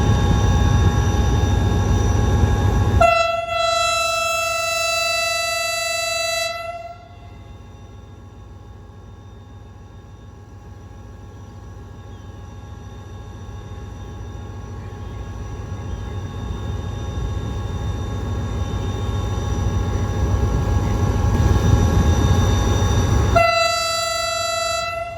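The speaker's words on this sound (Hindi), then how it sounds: "रवाना होना शुरू कर दिया है 151 अब शाह लतीफ़ एक्सप्रेस ने।" The Shah Latif Express departs Drigh Road railway station in Karachi, its loud horn sounding twice several seconds apart, with the rumble of the train rolling steadily along the track between the blasts.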